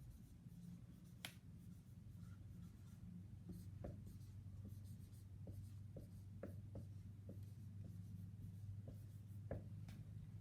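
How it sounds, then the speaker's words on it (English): Someone writes by hand with a pen or pencil on paper, making faint scratchy strokes and small taps at close range over a quiet room hum, with no voices. "I'm just going to write E."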